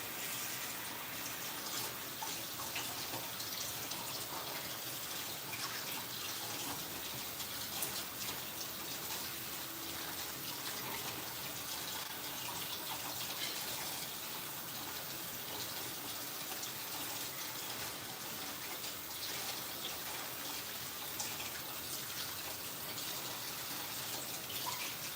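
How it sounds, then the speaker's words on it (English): Cold water runs from a kitchen tap while Jell-O is being made, a soft, even, hissing stream that flows steadily and faintly for the whole stretch with no voices. "So now let me add the 1/2 cup of cold water."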